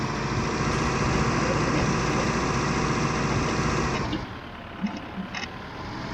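Farm tractor engine running at idle in a Polish countryside yard, a steady loud rumbling drone that cuts off abruptly after four seconds, followed by a few faint knocks and clicks.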